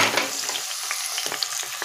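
Beans, carrot, green chilli, onion and cabbage stir-fry in a pan for home-made vegetable fried rice, a steady close sizzle with scraping stirs and small crackles throughout, no talking.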